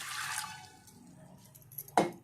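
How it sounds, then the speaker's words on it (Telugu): A glass of water is poured briefly into a cooker for a goat head curry, with a soft trickle and a sharper splash near the end, heard up close. "ఒక గ్లాస్ వాటర్ వేసుకుంటున్నానండి"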